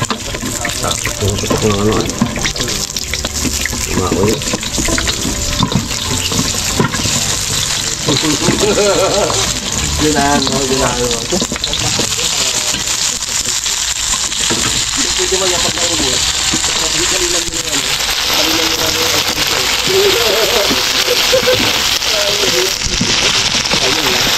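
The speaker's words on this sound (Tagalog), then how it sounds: "Prito muna natin tong ano, fishball at saka yam." Continuous hissing sizzle of fishballs and yam frying in hot oil, close and loud, with crackles throughout and faint voices in the background.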